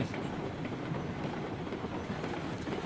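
Locomotive rolling steadily on rails in the railroad game RailRoads Online, a continuous dense rumble with faint clickety-clack, unbroken for the whole stretch with no talk.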